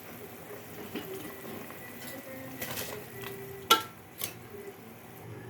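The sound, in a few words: rice added to boiling water and stirred in pot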